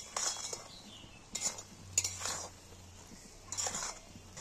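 Coconut and sugar syrup being stirred for coconut naru, a sweet made village-style: a few scraping, clinking strokes of a spoon against the pot, moderately quiet, with gaps between them and no talk.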